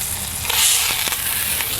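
A chuck eye steak sears in a French steel pan over high heat, giving a loud, steady hiss across a brief stretch, with a couple of faint pops and no voices.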